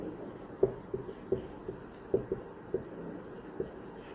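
Pen scratching out a name on paper or a board, a series of short irregular strokes close by, fairly quiet with no talking.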